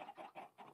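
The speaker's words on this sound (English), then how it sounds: "These chickens are annoying." Chickens cluck in a farm video game, several short soft bursts in quick succession, close and fairly quiet, with no talk over them.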